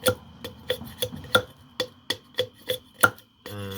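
A knife peels the outer skin off a length of bamboo being made into drinking cups, giving about ten sharp, evenly spaced knocks close up with no talking.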